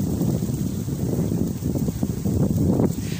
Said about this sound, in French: C'est grave du vent, c'est abusé.